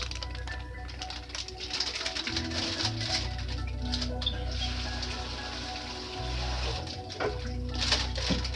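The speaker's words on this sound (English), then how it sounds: "Let me rinse them off." Running water rinsing green beans, a steady close splashing stream with low hum underneath and scattered clicks and knocks throughout.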